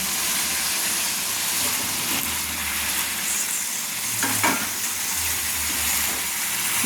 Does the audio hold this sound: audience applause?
no